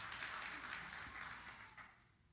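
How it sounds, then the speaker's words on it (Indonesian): A church congregation applauds, a dense wash of clapping from many hands that stays fairly steady and then fades out over a couple of seconds, faint and distant. "Tepuk tangan yang meriah, tepuk tangan."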